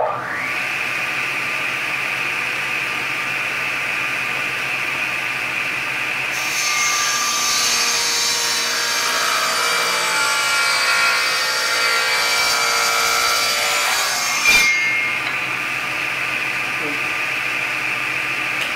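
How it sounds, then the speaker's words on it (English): A table saw cuts 45-degree dovetail angles in wood. A steady motor whine rises into a louder, harsher cutting roar for several seconds, then drops back to the idling hum before stopping. "I set my table saw up that way."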